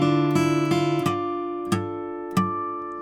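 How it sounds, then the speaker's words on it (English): Picked acoustic guitar riff for the outro of a song: a quick run of bright plucked notes, then a few spaced single notes left to ring, close and clean. "Or you can play the riff, which sounds like this,"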